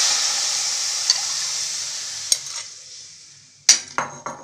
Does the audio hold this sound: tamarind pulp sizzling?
yes